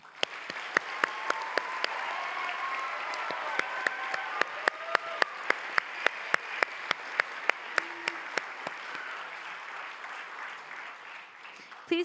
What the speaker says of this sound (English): Please give a round of applause one more time.